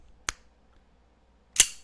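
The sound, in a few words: BB gun firing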